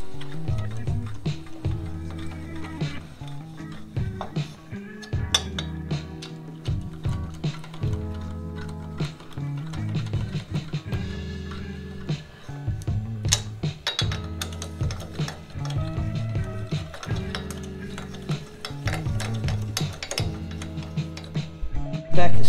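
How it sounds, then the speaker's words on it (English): A speed wrench runs down the deck bolts on a tractor, making a long stretch of rapid, rhythmic clicking and rattling close by, broken by short pauses. "that speedy wrench does a pretty good job"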